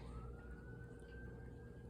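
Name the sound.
emergency vehicle sirens in the background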